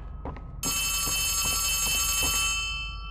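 An old telephone in the dark halls of the Poppy Playtime Chapter 3 horror game rings loudly and steadily with a bright, harsh electronic bell tone, starting abruptly after faint footsteps and fading slightly toward the end.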